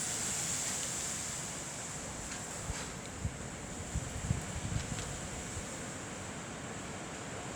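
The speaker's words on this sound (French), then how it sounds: "j'entends une rafale arriver" Storm Ciara wind blowing in Lyon gives a broad, faint rushing roar with buffeting against the microphone. A few soft thumps come midway, and no one speaks.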